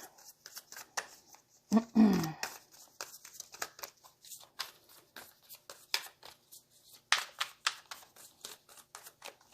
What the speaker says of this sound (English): I'm going to cut the deck, I think.